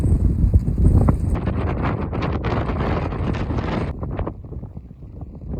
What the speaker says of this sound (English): We've had some windy days here too.